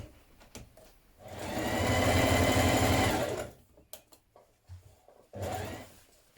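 A sewing machine runs a 1.5 cm seam round the leg of a child's jumpsuit, with a loud, steady whir for about two seconds. Shorter bursts and light handling clicks come before and after it.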